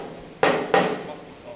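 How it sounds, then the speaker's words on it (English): A hammer taps a final-drive bearing into place in a fabrication workshop, two sharp metallic strikes about a third of a second apart, close and ringing briefly after each blow. "I'll give it another tap."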